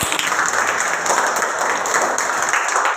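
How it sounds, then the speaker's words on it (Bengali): A class of students claps together in a dense, steady burst of applause that lasts about three seconds, close and loud with no talking. "হাততালি।"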